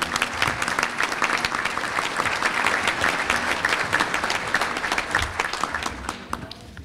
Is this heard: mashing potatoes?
no